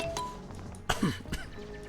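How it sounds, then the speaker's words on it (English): A single short cough bursts out around the middle, close and fairly loud, over a low steady background hum from the game Oxygen Not Included. "Oh, excuse me, I'm coughing."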